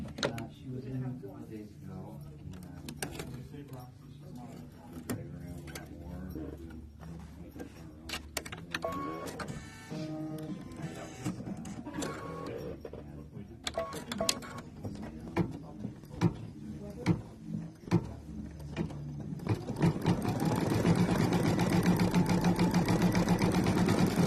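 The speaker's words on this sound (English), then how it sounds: "the next step is it's going to stitch the flowers, so the blue flowers" Embroidery machine stitching blue-thread flowers for a bookmark design, a fast mechanical needle clatter running steadily throughout, growing louder and denser near the end, with a voice talking over parts of it.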